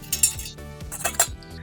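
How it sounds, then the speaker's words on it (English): Food being stirred in a pot with metal utensils, a few close clinks and scrapes against the pan in a short burst, no talking. "Let's give these a quick stir as well"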